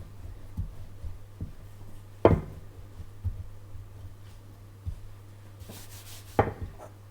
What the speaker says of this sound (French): Juste passer un petit coup de rouleau comme ceci.